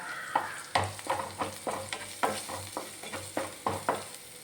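Green chilies, ginger and garlic fry in coconut oil, stirred in close rhythmic spatula scrapes over a steady crackling sizzle.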